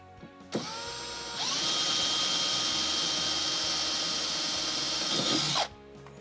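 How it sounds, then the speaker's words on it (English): A power drill whirs up, bites into wood drilling a pilot hole under a sink with a loud steady grinding whine for several seconds, then cuts off abruptly. "Now I'm just going to put a little pilot hole in with this wood drill."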